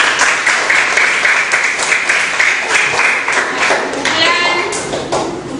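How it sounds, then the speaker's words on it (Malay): A classroom applauds a group of pupils, loud dense clapping from many hands filling the room continuously, with children's voices mixed in. "Beri tepukan untuk kumpulan"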